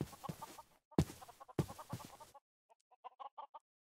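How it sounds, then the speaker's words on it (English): Chickens cluck in a Minecraft-style video game, several short bursts of clucking with brief gaps, followed by a quieter run of softer clucks at the end. "I can hear chickens."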